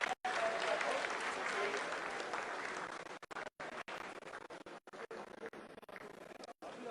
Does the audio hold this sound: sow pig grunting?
no